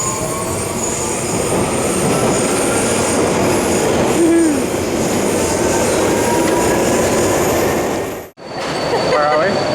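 Budapest metro train running through a tunnel, a loud continuous rumble of wheels on rail with brief squeals, heard from on board before the noise cuts out abruptly near the end, with people talking.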